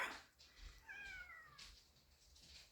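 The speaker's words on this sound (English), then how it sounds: "Sorry if you can hear meowing." A pet cat meows at a window to be let in, a couple of rising, tonal cries in the middle distance over a low room hum; no one speaks.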